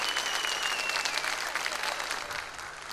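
A studio audience at a Turkish television broadcast breaks into steady, dense applause, a continuous wash of many hands clapping close by with no voices over it.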